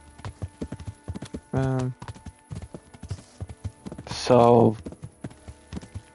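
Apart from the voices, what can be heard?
horse hooves clip-clop while riding, video game Kingdom Come: Deliverance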